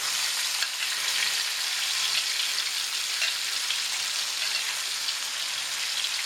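Onions fry in hot oil for a spicy chicken roast, a dense, continuous bright sizzle heard close up and steady throughout, with faint stirring scrapes and no voices.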